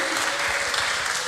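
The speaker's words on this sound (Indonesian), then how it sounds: "coba dong kasih tepuk tangannya satu kali lagi" A choir audience claps in a dense, continuous burst of applause at an indoor youth church event, loud and close for the whole brief moment.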